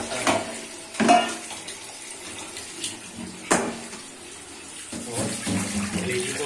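Tap water runs steadily while raw chicken pieces are washed and set in a strainer in a kitchen, with splashes and a few clattering knocks against the sink and dish.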